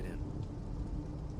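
Heavy rain pours steadily on a bleak, cold stretch of roadside, a dense broadband wash with low rumbling underneath, constant and close throughout.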